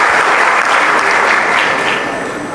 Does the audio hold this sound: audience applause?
yes